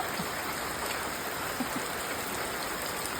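Heavy rain pouring down steadily outdoors in Kerala during a flood, a constant dense hiss of falling water with no breaks and no voices.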